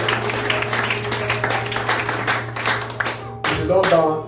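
A church congregation bursts into applause, with dense clapping that continues throughout while a voice breaks in toward the end.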